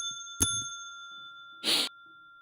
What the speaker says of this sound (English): We keep the bell up here on our B desk.